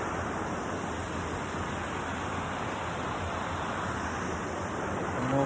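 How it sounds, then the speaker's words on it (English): Steady broadband rush of water pouring over a small weir beside a wooded walking path on a wet day, constant and fairly close, with no other sounds breaking through. "Nice little weir there."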